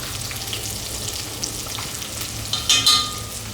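Prawns for Cantonese salt and pepper prawns deep frying in hot oil, a steady close hiss with a brief louder crackling surge near the end, no talking.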